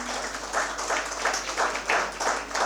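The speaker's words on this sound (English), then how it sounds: "let us give a loud applause for all of you who have been here since morning" An audience at a national conference on AI-driven technologies breaks into steady applause, a dense wash of many hands clapping at moderate volume throughout with no voices over it.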